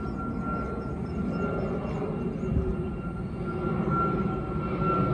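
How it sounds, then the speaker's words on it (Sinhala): An airplane passes overhead near a church, heard as a steady, broad engine roar that stays fairly constant and distant throughout, with no talking. "එනකොට යන දෙවෙනි ප්ලේන් එක"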